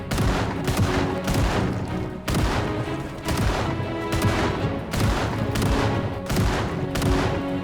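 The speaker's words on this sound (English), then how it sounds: "It's time to start shooting, Margaret. Kill them all." Rapid automatic gunfire in a video game tears through a zombie horde. Loud, dense bursts of shots run for a second or two each, separated by brief gaps, and sound close and relentless.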